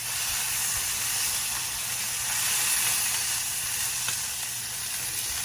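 Pork tenderloin sears in a hot pan with carrots alongside, giving a steady, close, broadband sizzle and hiss of frying fat that holds even throughout, with no voices.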